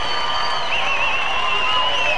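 A bodybuilding crowd cheers for Indonesian bodybuilder Ade Rai at a Musclemania show, with steady continuous shouting and whistling at constant high volume from a large audience.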